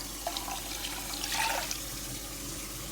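Water pours in a steady, soft stream into a cooking pot, trickling and splashing faintly with a brief swell midway.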